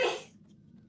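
A single sharp sneeze, loud and close, cut off quickly and trailing into a low quiet hum.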